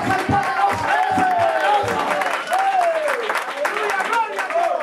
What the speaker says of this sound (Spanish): Dale un aplauso al Cristo de la gloria